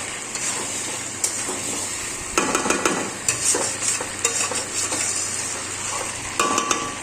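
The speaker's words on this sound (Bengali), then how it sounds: "এবার আমি এইভাবে কষিয়ে নেব আরও 5-7 মিনিট, ঢাকা দিয়ে দিয়ে ভালো করে কষিয়ে নেব" Chicken kosha sautéing in a pan with green chilies, a loud continuous sizzle broken by repeated scraping stirs of a spatula against the metal pan, close up.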